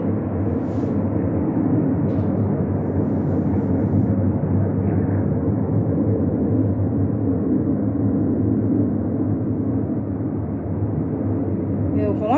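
A passenger airliner passes overhead, its broad low jet roar holding steady and fairly loud for the whole stretch, heard from an apartment veranda.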